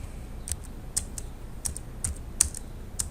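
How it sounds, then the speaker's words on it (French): Someone types on a computer keyboard with sparse, soft, irregular key clicks, about eight strokes spread over a few seconds, with no talking. "Je saisis le texte à l'aide du clavier"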